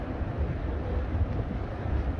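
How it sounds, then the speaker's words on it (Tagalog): Strong wind buffets the microphone outdoors near a mall, producing a continuous low rumbling roar with uneven gusts and no clear talk. "Ay, yung lakas ng hangin."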